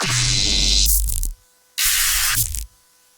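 Two dense bursts of harsh, noisy glitch-processed percussion with a low rumbling undertone, each cutting off abruptly, separated by a short silence.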